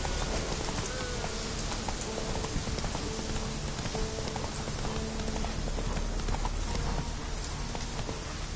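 Hooves of Roach, the horse in The Witcher 3: Blood and Wine, clip-clop at a steady trotting rhythm under a dense, rain-like ambient wash, with no talk.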